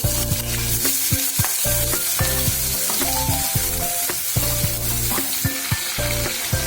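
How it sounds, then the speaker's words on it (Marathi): Chopped onions fry in three to four tablespoons of hot oil in a kadhai, giving a loud, continuous sizzle with repeated clinks and scrapes of a spatula stirring throughout. "आता त्याच्यात आपण घेतलेलं तेल घालून घेऊ तीन ते चार टेबलस्पून मोरी टाकून घेते कांदे"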